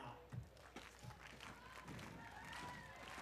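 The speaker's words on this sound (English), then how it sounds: "the slow clap has commenced out here" A beach volleyball crowd at the Hermosa Beach Open men's semifinal breaks into a slow, rhythmic clap: soft, evenly spaced claps rising faintly from a distant outdoor audience over steady background hubbub.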